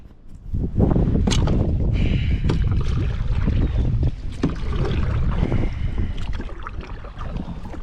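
Wind gusts buffet the microphone around docks on the Erie Canal, rumbling loud and uneven from start to finish, with occasional knocks and splashes from a small boat.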